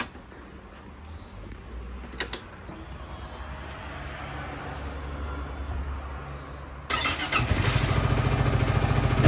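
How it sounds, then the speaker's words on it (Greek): A Yamaha XMAX 300 Tech Max scooter with a DNA air filter fitted; a starter whirs and the engine fires up near the end, settling into a loud, steady rumbling idle. "έχει γίνει λίγο πιο μπάσος ο κινητήρας."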